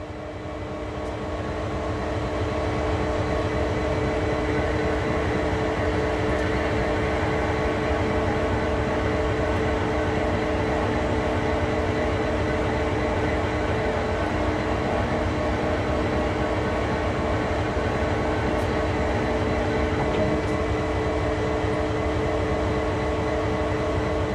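A locomotive sits on a rotating turntable in a train simulation game, giving a steady, loud mechanical hum and rumble with a sustained drone that holds unchanged throughout.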